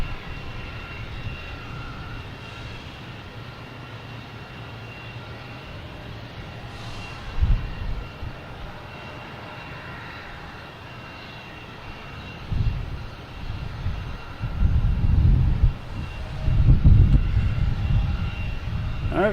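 A Wheels Up aircraft arrives from Nantucket at Boston Logan: a low, rumbling engine roar that is quiet at first, then swells in uneven bursts near the end, with no talking.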